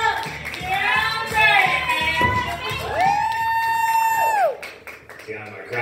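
Comedy club crowd at a stand-up show applauding and cheering loudly, with shouts and whoops rising over steady clapping and a sustained high whistle or yell near the middle before the noise tapers.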